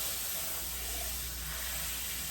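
Stick of butter melting in a hot pan for a maple brown sugar ham glaze, a faint, steady hiss of sizzling with no breaks.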